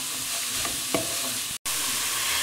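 Vegetable momo filling with chopped mushrooms mixed in a bowl, a short burst of steady rustling and soft scraping with one brief dropout and no voices.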